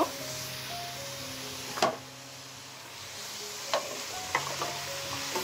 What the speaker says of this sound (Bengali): এখন এখানে আমি মিষ্টি কুমড়াগুলো দিয়ে দেব